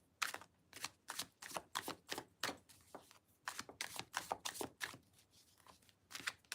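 Tarot cards being shuffled by hand in a rapid run of crisp riffling bursts, each lasting a fraction of a second, close up and fairly loud with no talk over them.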